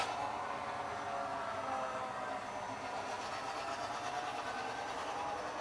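A model train pulled by a Dash 9 locomotive rolls along with a lengthening string of homemade ore loads, giving a continuous steady rumble with faint clicking and a light hiss, even and unbroken throughout.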